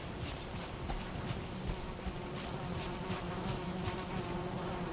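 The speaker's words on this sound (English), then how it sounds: "Oh, I hear bees." Bees swarm inside a building in the game Valheim, a steady dense buzzing that holds for the whole stretch at moderate level, with no talk over it.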